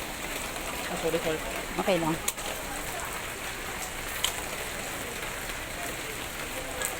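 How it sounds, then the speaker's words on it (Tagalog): Steady rain patters and hisses throughout, with a brief spoken phrase and a few short tonal sounds over it. "Ang ulan."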